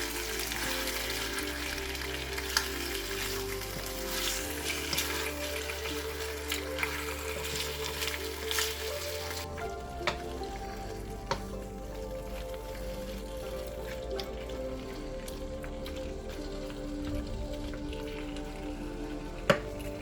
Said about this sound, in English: Continue cooking until the beef gets some browning on it.